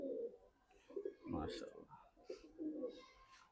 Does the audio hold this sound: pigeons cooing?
yes